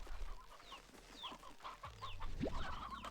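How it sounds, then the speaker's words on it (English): Several hens cluck softly in a farming video game, short clucks and chirps repeating at a distance under a low hum, with a brief rising squawk near the end. "There's some stony hens. There's plenty of chicks, so I'll just take all the big chickens."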